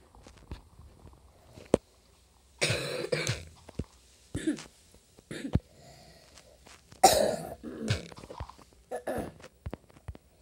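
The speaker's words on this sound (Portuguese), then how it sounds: "Eu tô meio que tossindo, mas não é porque eu esteja doente ou coisa e tal" A person coughs repeatedly from an allergic reaction, outdoors near a small tree, in short harsh bursts and throat-clearing fits separated by quiet gaps with faint footsteps and rustling.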